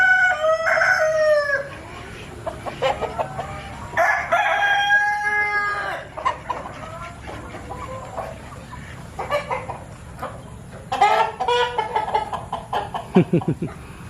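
Chickens cluck and squawk loudly and repeatedly while roosters crow nearby on a large poultry farm in Lodhasuli, several calls overlapping over a constant farmyard background.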